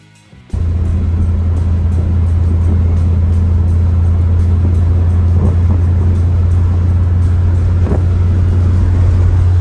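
An old rat truck's engine fires up and then drones at a steady low idle-to-cruise hum, loud and close from inside the cab, with no one talking.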